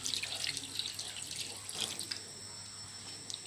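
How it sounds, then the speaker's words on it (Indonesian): Water pours into a pot of pork being braised in sweet soy sauce, a faint, steady trickle and splash that tapers off toward the end. "Kemudian kita tambahkan airnya sampai dagingnya tenggelam ya."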